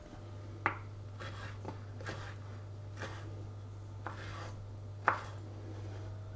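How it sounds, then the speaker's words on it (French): Knife chopping apricots on a board for apricot and almond cookies: a few sharp, separate cuts spaced about a second apart over a steady low background hum, with no talk. "on va couper les abricots"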